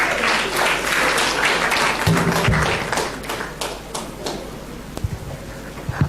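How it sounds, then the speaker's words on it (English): Audience at a youth employability forum at a university gives a round of applause, a loud burst of clapping mixed with a few thumps and knocks that thins out toward the end. "A round of applause for him."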